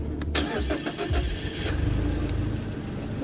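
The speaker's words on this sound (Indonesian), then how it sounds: "tombol start stop yang menyala berwarna hijau dan ditekan" A 2017 Mazda CX-3 Touring starts at the push of its start-stop button: a quick cranking whir catches into the engine, which then settles into a steady, close idle with no one talking.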